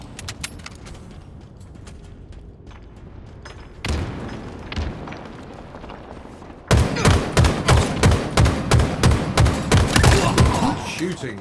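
Rapid gunfire in the Halo Infinite free-for-all multiplayer map Chasm: scattered shots and a burst early on, then a loud, sustained rhythmic stream of close automatic fire with booming thumps.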